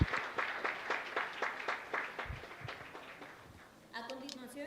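A crowd at a youth democracy summit applauds a session moderator, with fairly quick rhythmic claps of moderate loudness. A brief burst of other sound comes in near the end.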